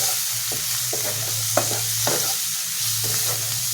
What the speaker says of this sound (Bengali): মশলাটা কষা কষা হয়ে গেছে